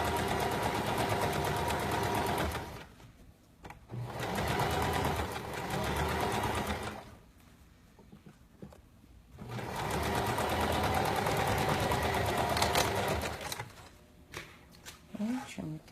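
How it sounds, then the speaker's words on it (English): A domestic sewing machine sews a garment side seam in three sustained runs of several seconds, separated by short pauses, close and clear with little else around it. "So we'll go ahead and sew this up real quick"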